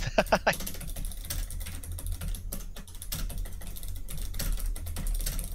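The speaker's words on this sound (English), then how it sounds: "I'm typing this all out actually" Typing on a computer keyboard, a quick irregular run of close, crisp key clicks with brief pauses, over a low background hum.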